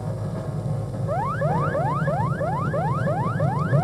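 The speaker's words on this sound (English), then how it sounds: "that alarm again" Alarm aboard a spacecraft nearing a crash landing, a rapid series of repeated rising electronic sweeps starting about a second in and continuing steadily over a low engine-like hum, loud and close.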